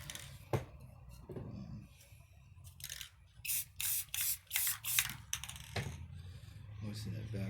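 A hand spray bottle mists water to moisten a paint surface: about six quick, crisp squirts in a steady rhythm, close by, with soft handling clicks between them.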